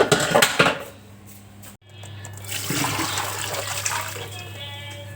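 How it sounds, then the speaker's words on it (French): Water runs into a mixing bowl as it is rinsed, a close rushing splash that briefly cuts out, then resumes as a steadier flow with trickling, a faint hum underneath. "Le nettoyage du bol est terminé. Donc on va venir le rincer."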